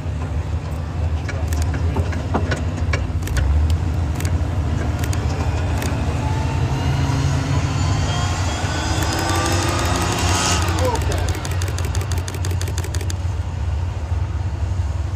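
A CVR(T) Striker tracked armoured reconnaissance vehicle idles with a steady low engine rumble at an outdoor museum show, accompanied by clanking and whirring mechanical sounds and a rapid ticking rattle near the end.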